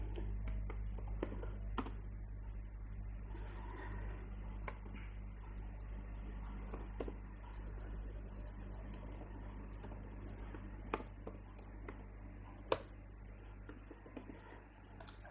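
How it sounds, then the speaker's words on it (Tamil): Someone types Tamil text on a computer keyboard. Soft, irregular keystrokes and occasional sharper clicks sound over a low, steady hum, fairly quiet and close. "இங்கே போயிட்டு நம்ம வந்து தமிழில் டைப் பண்ணுறோம்."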